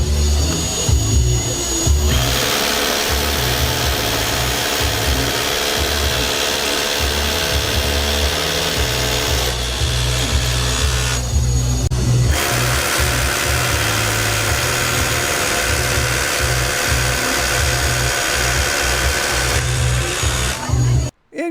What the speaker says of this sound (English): So you can drill and you can vacuum all at the same time.